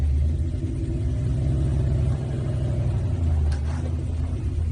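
1966 Ford GT40 engine rumbling low and steady from inside the car as it pulls away, a loud continuous throb with a slight rise in revs, no talking.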